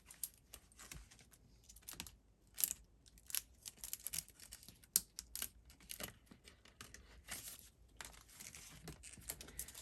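Paper bills and a cash envelope handled close by for a home budget, with soft rustling, crinkling and flicking sounds in an irregular run of small taps, quiet and without voices.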